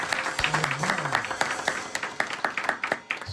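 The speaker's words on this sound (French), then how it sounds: "On nous applaudit." A congregation at First Haitian Church of Savannah applauds during a service, a steady patter of many hands clapping at moderate distance, with a faint voice briefly heard over it.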